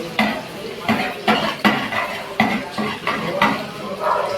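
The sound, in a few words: onions frying and being stirred in a pan with cumin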